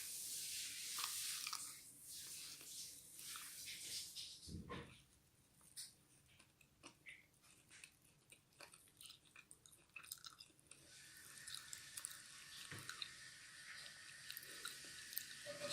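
Crispy Vietnamese banh ran beignets are bitten and chewed up close, with crunchy bites followed by softer irregular chewing and brief quiet pauses.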